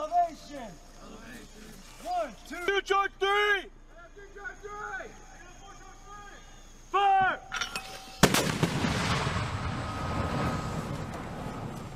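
Military artillery fire, a sudden powerful blast followed by a long rumbling decay, after several seconds of people speaking.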